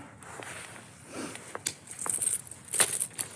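Keys jangling on a waterproof tactical cold-weather parka, a few light metallic clinks and rattles close by, scattered irregularly over a quiet background.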